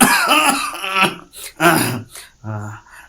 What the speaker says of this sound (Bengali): ভদ্রলোক চুরুটে টান দিয়ে আবার ঘর কাঁপিয়ে কাশতে লাগলেন